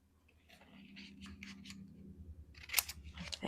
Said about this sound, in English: I'm just going to cut this off slightly narrower.